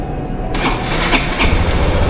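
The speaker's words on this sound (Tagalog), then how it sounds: "Start na po natin yung ating motor." A motorcycle engine cranks and catches, then settles into a loud, close, rough idle with a steady throb and no talking.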